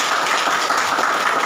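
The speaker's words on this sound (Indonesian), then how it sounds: "Beri tepuk tangan." Applause from a class audience after a student presentation, a steady dense patter of clapping lasting the whole short moment without pause.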